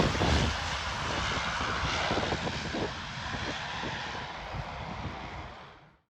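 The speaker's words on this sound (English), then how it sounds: "an Emirates Sky Cargo Boeing" An Emirates SkyCargo Boeing 777 lands at Sydney Airport, its jet engines giving a loud, broad roar that holds steady and then fades away toward the end.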